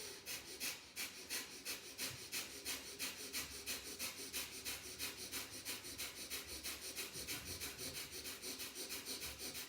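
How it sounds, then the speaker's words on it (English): Forceful yogic breathing during a core-strengthening yoga sequence: rapid, rhythmic sharp exhales through the nose, close and steady, roughly two per second, with no talking. "forcefully inhale and exhale. So inhale deep. Exhale all the air out, maybe out of the mouth."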